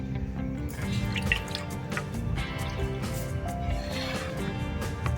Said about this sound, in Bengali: দুধটা কিন্তু ফুটা শুরু হয়ে গেছে